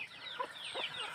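Chickens and a rooster clucking faintly at a distance on a quiet provincial morning, soft scattered calls amid light outdoor ambience with birds.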